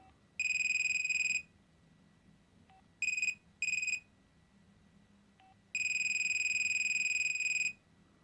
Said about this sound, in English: not much choice there in terms of ringtone